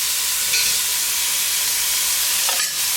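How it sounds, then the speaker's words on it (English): Onions and garlic sauté in rabbit pan drippings for a German wine-braised rabbit stew, giving a loud, steady, close sizzle with a couple of faint stirring scrapes. "we're going to take our vegetables, the onions and the garlic, and we're going to saute those in all these wonderful pan drippings"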